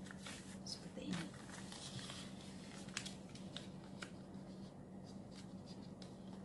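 Sheets of origami paper folded by hand, right and left sides creased toward the middle, giving soft, quiet crinkles and scrapes at close range with a few sharper brushing taps, over a low steady hum.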